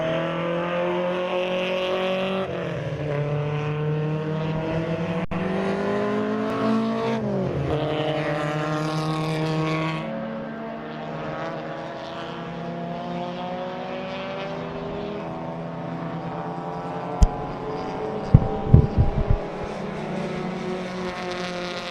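Race cars, BMWs and Volkswagen Golf 1s, run a circuit race at Zwartkops raceway, with loud, sustained engine drones that rise and fall in pitch as cars accelerate and pass, and a few sharp knocks near the end.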